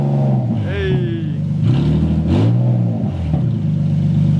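An Infiniti G37 with a budget exhaust revs up loudly nearby, engine pitch rising and falling in a couple of surges, with someone talking over it.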